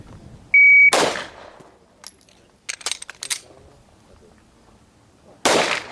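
Handgun shots at a combatives training class: a loud tone beeps first, then a sharp, close crack follows, a burst of quicker impacts comes a second or two later, and a final loud shot lands near the end.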